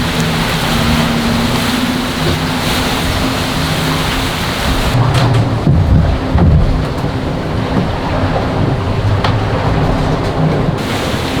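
Heavy rain roars steadily with wind on a sailboat during a Pacific Ocean storm with 40-knot winds and rough seas, a dense, loud wash of noise that swells briefly partway through.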